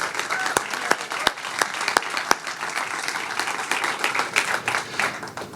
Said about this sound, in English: How about another big round of applause for Kofi Kingston, Xavier Woods, Big E